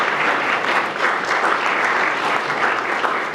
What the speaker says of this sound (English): can we give a huge round of applause for the staff here at the Sheraton?